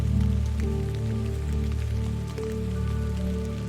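Steady rain patters on a surface in a continuous wash, blended with a soft sustained musical drone, even and moderately loud throughout, with no voices.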